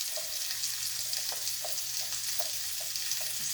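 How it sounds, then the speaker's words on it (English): Carrots being turned and coated in margarine in a hot pan, a steady close sizzle with soft repeated scraping stirs of a utensil against the pan. "what I'm doing right now is just sort of coating my carrots in the margarine"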